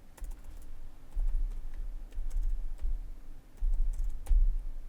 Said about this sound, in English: That nice bassy sound you're hearing, folks, is Neil tapping away